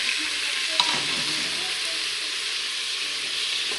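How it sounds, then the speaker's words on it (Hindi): Pieces of goat meat frying in browned ginger-garlic paste for a Peshawari namkeen gosht: a steady close hissing sizzle with faint stirring scrapes, even and continuous throughout, with no voices. "तकरीबन इसको जो है मैं 3 से 4 मिनट तक ऐसे ही भून लूँगी"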